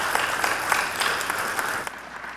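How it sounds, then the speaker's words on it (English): Short burst of audience applause at a talk, a moderate, evenly spread clapping that fades slightly toward the end. "let's do one more round of applause for Dr."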